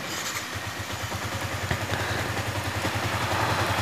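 A motorcycle engine idles steadily, its low, even pulsing thumping along throughout; a faint clatter sits on top of the running engine and no one speaks over it.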